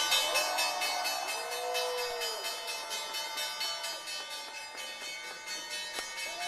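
Closing bell ringing on the trading floor of the New York Stock Exchange, a rapid, continuous metallic ringing with steady rhythmic strikes, moderately loud, sustained for several seconds alongside faint background crowd noise.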